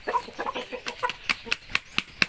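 Young chickens squawk and cluck in quick, rising bursts as they are being caught on a farm, with rustling and flapping close by, the cries growing sharper and more regular.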